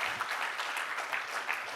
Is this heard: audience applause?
yes